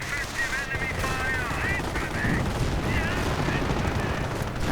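Machine-gun bursts and artillery fire in a WWII strategy video game, a steady dense barrage of gunfire and booms filling the whole stretch, with a voice talking faintly underneath.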